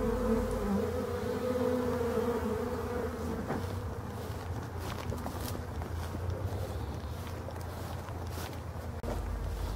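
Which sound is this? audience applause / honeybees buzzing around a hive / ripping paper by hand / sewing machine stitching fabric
honeybees buzzing around a hive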